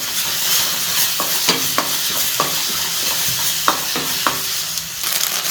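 Eggs being stirred and scrambled in a frying pan while making street-style chicken fried rice, with a steady sizzle and repeated sharp scraping strokes of the spatula against the pan.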